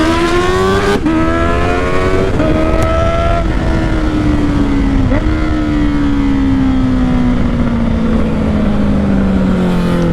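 A Honda CBR650R with a Black Widow exhaust revs hard through quick-shifter gear changes, the loud rasping note stepping down at each shift, with sharp pops and crackles, then a long steady pull that slowly falls in pitch.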